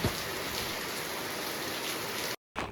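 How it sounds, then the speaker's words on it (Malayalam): Morning rain pours down in a dense, steady hiss close by, with a brief drop to silence just before the end; no voices. "രാവിലെ ദാ നല്ല അടിപൊളിയായിട്ടുള്ള മഴയാണ് കേട്ടോ"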